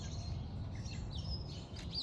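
Birds chirp and sing outdoors among trees, faint scattered calls rising over a steady low rumble of wind or distant background noise.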